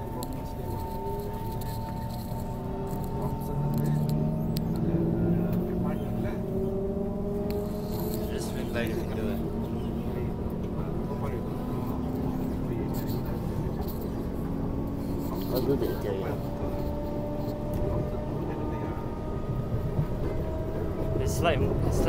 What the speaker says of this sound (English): It's like strong motor here.